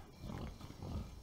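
Low, rough grunting snorts from a pig in the video game Valnir Rok, a couple of gruff bursts close by, continuing steadily through the moment with no talking.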